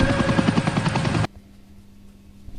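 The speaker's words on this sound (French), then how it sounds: "elle est partie en hélicoptère." A helicopter from the 1996 Super Bowl halftime show thumps loudly with rapid, rhythmic rotor beats, then cuts off abruptly into near silence.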